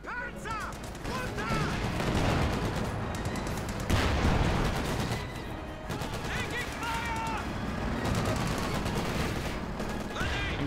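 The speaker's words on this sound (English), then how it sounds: "MG 30 firing away" Sustained machine gun fire from an MG in the Company of Heroes 2 strategy game, dense rattling bursts layered over a continuous din of battle with other gunfire and explosions throughout.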